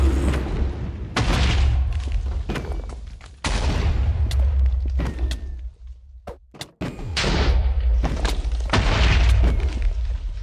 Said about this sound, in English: He's shooting wither heads at us.